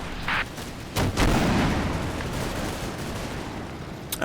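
Artillery fire in the Combat Mission wargame, a few heavy booming shots with rolling rumble and lingering tail, loud and distant-sounding, no talk over it.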